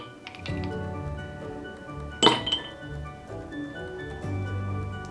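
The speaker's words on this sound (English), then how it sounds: "Now I'm gonna get a cup of ice with some milk." Ice clinks against a glass cup while a drink is prepared, one sharp bright clink standing out in the middle, with softer taps and knocks before and after in a quiet kitchen.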